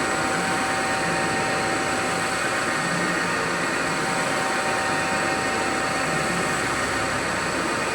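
A Milltronics MB20 CNC vertical bed milling machine cuts a circle, giving a steady, loud mechanical whir and hiss with a constant high whine and no pauses.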